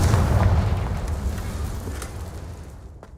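A Confringo spell blast in the Hogwarts Legacy video game lands as a heavy rumbling explosion that is already booming at the start and then decays slowly over a few seconds.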